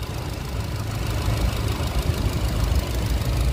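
The engine of a 2007 Nissan Grand Livina XV with manual transmission idles nearby, giving a steady low rumble with a faint, even pulsing texture and no voices over it.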